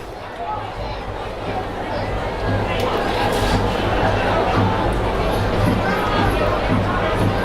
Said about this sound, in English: Quite the crowd there.